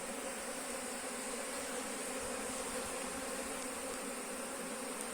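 Honey bees hum steadily at a hive entrance during a warm spell, their dense, even buzz close and continuous, with no voices over it.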